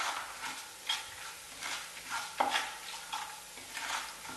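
A spoon stirs moong dal as it fries in oil with popped mustard seeds, giving soft scraping strokes in a loose rhythm over a quiet, steady sizzle.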